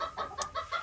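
Chickens clucking inside a coop holding around a hundred birds, several short agitated clucks and squawks in quick irregular succession, fairly close with overlapping calls.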